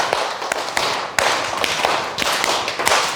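Classroom participants clap together in a rhythmic counting pattern, with crisp, loud group claps arriving in repeated clusters throughout, close by and with no voices over them.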